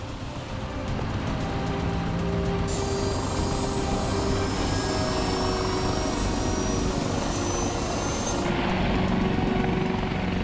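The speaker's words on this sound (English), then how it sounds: "With the chopper in the air," A helicopter flies over a highway crash scene where a tractor trailer has been smashed in deep snow, its steady loud rotor and engine roar continuous throughout with a high turbine whine.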